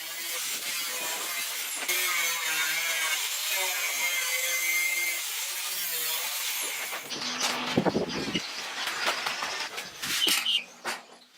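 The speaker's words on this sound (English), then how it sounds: "All the excess parts of the fiberglass are trimmed away" A power tool trims excess fiberglass from a handmade jet boat hull, giving a steady loud whine that gives way to rougher, uneven cutting bursts and scraping near the end.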